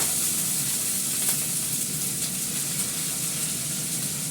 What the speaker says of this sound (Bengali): নুনটা দিয়ে আমি ভালো করে ফ্রাই করবো